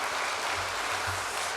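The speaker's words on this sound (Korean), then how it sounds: "우리 사랑과 격려 박수 한번 합시다." A church congregation claps together in encouragement for its young adults group during a Sunday afternoon service, a brief, dense, steady burst of applause filling the sanctuary.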